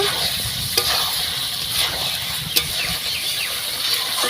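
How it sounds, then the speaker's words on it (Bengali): Chicken curry with garam masala is stirred in a hot pan: a continuous loud sizzle and hiss broken by a few sharp spoon scrapes against the metal. "নাড়িয়ে নেব।"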